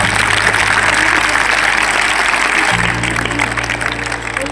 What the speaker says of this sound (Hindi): ले बजाओ इनके लिए ऊपर तालियां बजाओ